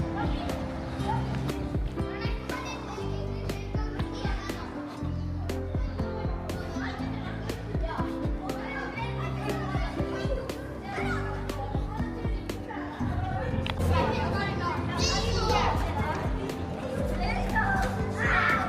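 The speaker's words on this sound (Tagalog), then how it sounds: "Maingay mga bata, guys." Noisy children play and shout near a church in Tallinn, Estonia, a dense continuous clamour of young voices with scattered clatter and footsteps throughout.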